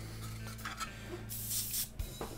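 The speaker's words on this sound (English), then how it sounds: "pick a place and just start spraying on it around the edge" Spray paint misted onto an Eldar Craftworld model vehicle: a soft hissing burst builds up and holds for about half a second, close to the microphone over a faint steady background hum, with no talk.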